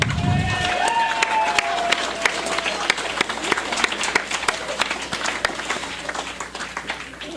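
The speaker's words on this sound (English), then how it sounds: "give yourselves a round of applause" A party gathering's audience breaks into applause, a burst of scattered hand claps with crowd noise and a brief whistle-like tone early on, continuing for several seconds and tapering off.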